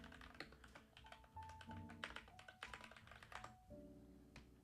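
Quiet typing on a computer keyboard swapped for a less noisy one, with irregular bursts of soft key taps and clicks running steadily, close by and with no talking.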